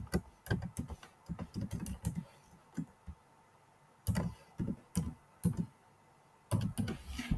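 Fingers type on a computer keyboard while entering names into a table in a Word document, producing close bursts of quick key clicks separated by short pauses, with no voices.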